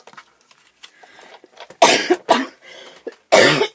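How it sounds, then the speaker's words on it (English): A person coughs several times in harsh, close bursts, with two heavy coughs standing out among smaller ones and brief pauses between. "Oh dear, this coughing is just driving me crazy."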